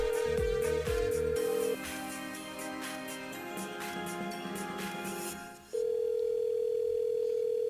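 A radio station's call-in line rings through on air, with steady tones from the telephone line repeating for several seconds, then giving way to a sustained single tone, against busy low background sound.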